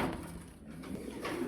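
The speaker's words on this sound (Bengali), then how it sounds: "দেখা যাচ্ছে একজোড়া ড্যানিশ কবুতর" A pair of Danish pigeons gives a soft, faint, throaty coo in a quiet room, heard only for a moment with no talking.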